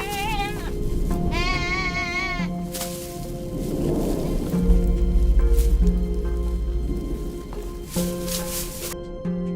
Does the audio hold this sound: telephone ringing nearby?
no